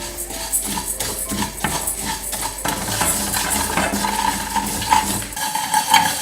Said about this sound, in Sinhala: මුලින්ම මම කොත්තමල්ලි ඇට ටික දා ගන්නවා.